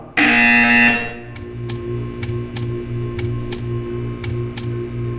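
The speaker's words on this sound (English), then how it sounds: "When you hear the buzzer, stare at the art." A repeating buzzer from the video game Portal 2: a loud initial alarm-like blast, then a steady series of evenly spaced pulsing buzzes with sharp ticks, sounding close and alone.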